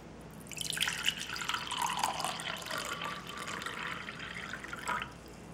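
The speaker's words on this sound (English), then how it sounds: "let me do a demonstration here of actually pouring and you know, seeing the spillage" Water pours from a Bormioli Rocco Frigoverre glass jug pitcher, a steady, bright splashing stream lasting several seconds at close range, alone with no talking.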